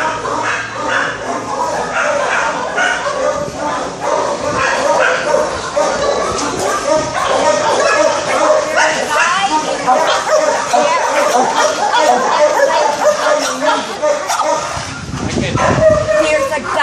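Dogs bark, yip and whimper inside an animal shelter run by a humane society, a loud, continuous, overlapping chorus close by with people's voices mixed in.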